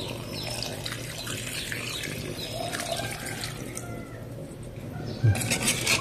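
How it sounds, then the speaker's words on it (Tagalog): Water pours steadily into a pot for chicken tinola with a continuous rushing splash, close by, over faint outdoor background noise, ending with a brief clatter. "Tugungan natin ang tubig eh"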